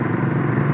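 A motorcycle engine hums loudly and steadily while riding, a brief close burst of dense engine noise with a rough mechanical texture.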